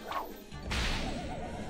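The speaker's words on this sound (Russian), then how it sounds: "Ну, давай ее кнутом добьем." A whip strike in a Looney Tunes video game lands as a single sharp crack with a swishing, crashing burst, followed by a sustained game effect tail.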